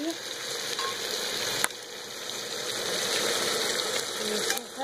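Tomatoes with turmeric and spices sizzle steadily in a pan, a continuous bright frying hiss with a brief clink near the start and stirring noises.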